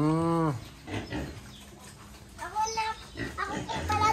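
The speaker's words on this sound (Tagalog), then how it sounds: "Dito may baboy din sa kabila." A pig on a Philippine farm gives a loud squealing grunt at the start, then quieter background sounds as people talk over the rest.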